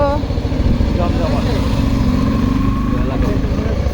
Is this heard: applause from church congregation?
no